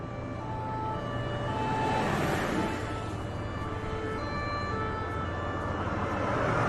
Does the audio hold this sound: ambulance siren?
yes